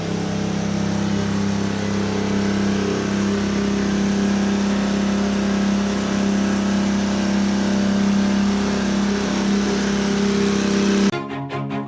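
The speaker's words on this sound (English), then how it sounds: "is a water truck here supplying water." A water truck's engine runs steadily nearby, a loud continuous low rumble with a strong hum that holds even throughout before cutting off abruptly near the end.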